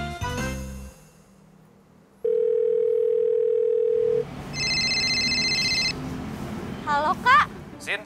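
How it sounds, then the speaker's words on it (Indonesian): Phone sounds during an outgoing call: a brief ringing burst, then a steady dial tone, a run of dialing beeps and quick tones, with talk around them. "Coba deh kamu telepon."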